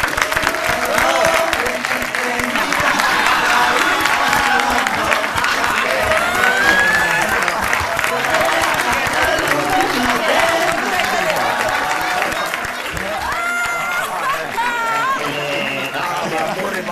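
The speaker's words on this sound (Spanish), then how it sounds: "Vamos a darle un aplauso para que entre," Comedy show audience in a theatre applauding and cheering loudly and steadily for about sixteen seconds, with whoops and shouts over dense clapping that eases slightly near the end.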